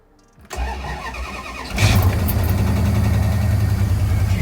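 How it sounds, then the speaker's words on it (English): A 1965 Plymouth Barracuda engine cranks briefly, then catches and settles into a loud, steady idle close by. "let's see if this thing starts"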